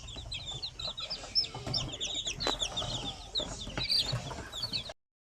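Newly hatched chicks peep in a dense, continuous chorus of high, overlapping chirps, close by. The sound stops abruptly near the end.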